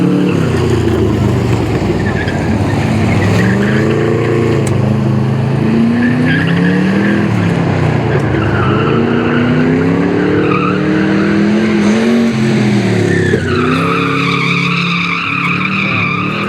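Car tires squealing as a car skids sideways at a Goodguys car show event, with a loud revving engine rising and falling throughout, close and continuous.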